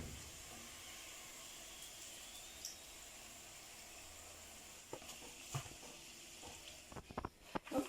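Yam balls frying in hot oil, a steady soft sizzle throughout with occasional crackles and handling clatter toward the end.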